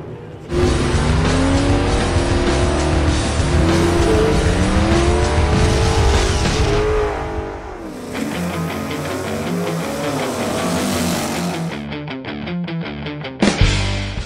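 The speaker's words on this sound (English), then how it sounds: "This, my friends, is what you call a Hemi." A Hemi-engined car at a drag strip runs loud and close, its engine note rising and falling through revs, then settling into a rougher, choppier idle before a brief sharp burst at the end.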